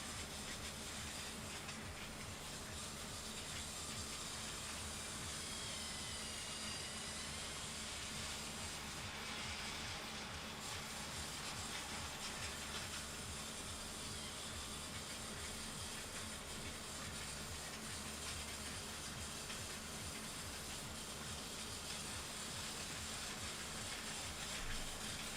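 A steam train chugs along the tracks as a continuous rumbling roar that stays steady and fairly loud for the whole stretch, with no voices.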